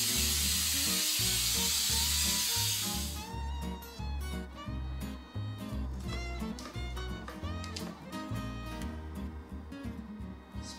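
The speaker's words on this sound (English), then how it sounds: "Now we're going to spray our baking sheet." Cooking spray hisses onto a baking sheet, a steady spray for about three seconds, loud and close, then it cuts off and background music carries on.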